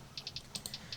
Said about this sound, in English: we're using the Queen's Scheme hi-hats